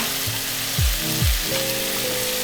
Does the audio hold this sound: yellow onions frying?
yes